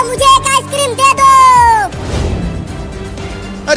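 A cat meows loudly and close several times in drawn-out, wavering cries, followed by a noisier, rougher stretch; no clear talk over it.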